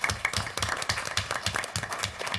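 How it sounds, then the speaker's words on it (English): A short burst of applause rises from the audience at a city commission meeting in Paducah, a moderately loud patter of many hands clapping for a couple of seconds. "We have to give him a round of applause for his mom."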